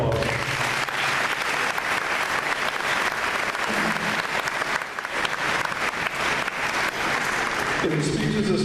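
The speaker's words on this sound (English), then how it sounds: "So please give them another round of applause." Sustained audience applause at an evening tribute dinner honoring a Watertown High School coach, dense steady clapping filling the room throughout, with a few voices mixed in near the end.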